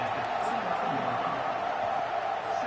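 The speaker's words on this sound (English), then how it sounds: "This crowd, full throat, splitting the eardrums" Stadium crowd at a football game, a dense, continuous roar filling the space with no breaks, loud and sustained throughout.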